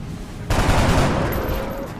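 A single sudden burst of video game gunfire cuts in loudly and close, then decays into a ringing, crackling tail with a faint high whine.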